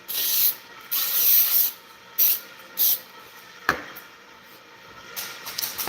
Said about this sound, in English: This stuff is, this aerosol is no joke.